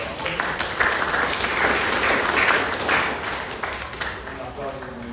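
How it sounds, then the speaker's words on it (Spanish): An audience in a classroom gives a brief round of applause for a doctor, a loud burst of clapping that swells then tapers off within a few seconds, with voices mixed underneath. "Un aplauso para la doctora."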